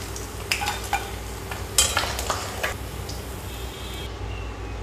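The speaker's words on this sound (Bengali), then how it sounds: "ইলিশ মাছের মাথাগুলো একটু লাল লাল করে ভেজে নেব" Hilsa fish heads fry in hot oil with a continuous close sizzle, broken by a few scraping stirs of a utensil in the pan. The sizzle fades slightly toward the end, and no one talks.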